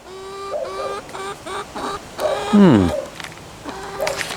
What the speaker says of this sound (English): we got 3 chickens that aren't laying any eggs